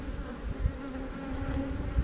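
A sparse hive of bees in a bee yard gives off a close, steady buzzing drone, continuous and moderately loud.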